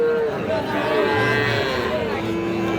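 A calf moos at a busy cattle market, a clear drawn-out call close by over the steady murmur of the crowd.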